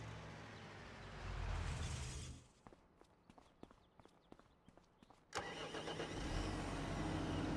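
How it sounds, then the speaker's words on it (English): A video game farm truck engine in Farming Simulator 25 cranks and catches, running rough and loud with a squealing belt, then idles; a quieter stretch with clicks and taps sits between the engine bursts. "She sounds a little rough when she starts, I'm not gonna lie. You can hear the belt squealing on it."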